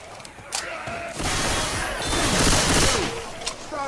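Sustained video-game gunfire from a Left 4 Dead 2 multiplayer match, loud dense bursts of automatic shots filling most of the stretch with a few sharper single cracks, under a busy game soundscape.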